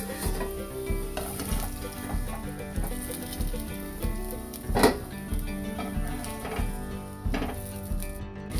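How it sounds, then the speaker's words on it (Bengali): Chopped onions sizzle steadily in hot oil for a mutton curry, a continuous crackling hiss with occasional stirring scrapes and clinks. "এবারে আমি পেঁয়াজ কুচনোগুলোকে বেশ লাল করে ভেজে নেব"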